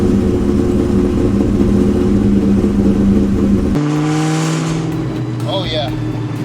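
A turbocharged car engine idles with no throttle applied, a steady loud running note that shifts to a lower, smoother tone partway through, with a brief high whistle near the end.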